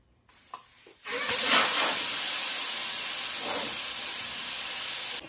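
Air rushes out of a 255/40R18 drift car tire on a 9.5-inch wide rim once the valve core is pulled, a loud steady hiss that starts abruptly after a few faint clicks and holds at full strength, close by.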